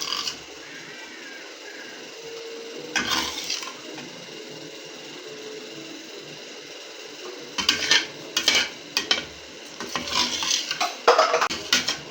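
Eggs are scrambled in a pan with a utensil, giving scattered bursts of close scraping and clinking against the metal, separated by quiet stretches.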